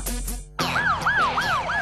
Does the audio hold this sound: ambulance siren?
yes